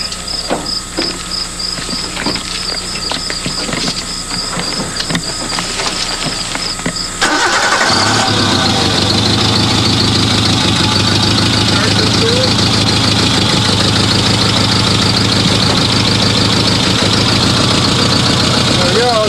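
HHO water-powered Suzuki car engine cranking and starting partway through, then settling into a loud, steady idle close by, after a stretch of rattly background noise.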